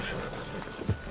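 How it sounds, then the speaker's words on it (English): Hooves clop as a horse gallops away in the video game Red Dead Redemption 2. The hoofbeats are faint and brief under steady outdoor ambience, with one firmer thud near the end. "Send your horse somewhere safe."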